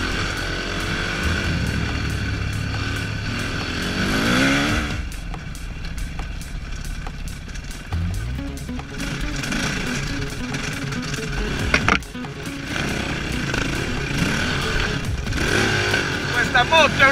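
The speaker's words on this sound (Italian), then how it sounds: "Questa moto è una bomba." Enduro motorcycle engine revving and pulling hard through an off-road motocavalcata ride in Narcao, Sardinia, a loud continuous roar rising and falling with gear changes, with shouting voices and wind over it.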